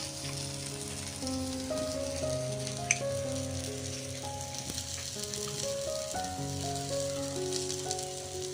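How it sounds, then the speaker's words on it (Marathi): Karli fish frying in a pan for a Konkan-style fish fry, a dense steady sizzle with crackling pops running close and unbroken throughout, no voices. "ते बघा आता मस्त मच्छी चांगली फ्राय झालेली आहे."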